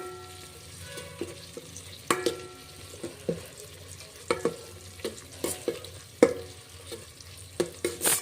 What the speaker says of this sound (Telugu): ఇలా కొద్దిసేపు బాగా ఫ్రై చేయండి